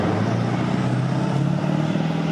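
Warrior AIFV tracked armoured vehicle doing a neutral turn in mud at a military show, its engine a steady loud low drone throughout with no talk over it.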